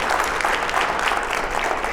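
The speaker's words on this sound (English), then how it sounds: "let's give Maria a round of applause." Audience applause after a lecture in the Adam Smith Lecture Series, a steady burst of dense clapping from a seated crowd, fairly loud and continuous for the whole moment.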